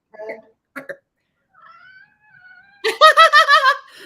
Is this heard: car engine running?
no